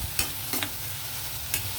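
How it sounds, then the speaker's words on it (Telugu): Salt and turmeric are stirred into food frying in a pan, with a low steady sizzle broken by three quick scraping strokes of a spoon, close and alone. "ఈ సాల్ట్ పసుపు వేసిన తర్వాత ఒకసారి బాగా మిక్స్ చేయాలి."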